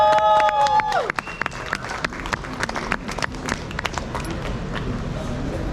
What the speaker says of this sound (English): Huge round of applause for the Chang and the Yimkyung tribe.